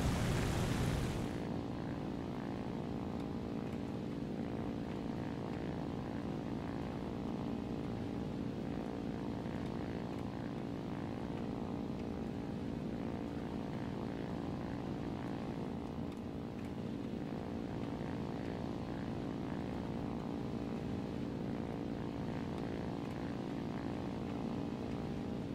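Ki-84 propeller fighter in War Thunder, its piston engine droning loud and steady throughout with a sustained harmonic hum after a brief louder start, no talking.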